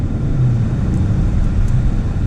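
A 2019 Mazda 6 Grand Touring Reserve with a turbocharged 2.5 liter engine accelerates, heard from inside as a steady low engine rumble and road noise, fairly loud and unbroken.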